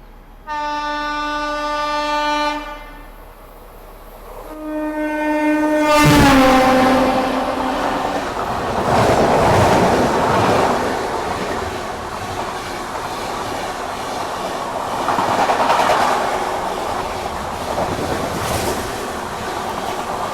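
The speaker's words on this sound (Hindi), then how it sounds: "सामने से आ रही है महाराष्ट्र संपर्क क्रांति एक्सप्रेस" The Maharashtra Sampark Kranti Express passes close by, opening with a long, loud multi-tone horn blast in two parts, then a heavy rushing roar and rhythmic rumble of carriages that lasts to the end.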